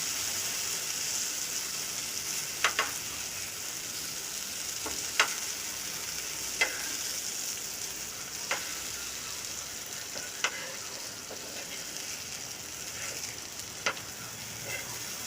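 Okra (bhindi) stir-fries in a pan until crisp, giving a steady close sizzle throughout with a few sharp clicks of a spatula scraping or turning the pieces at irregular intervals.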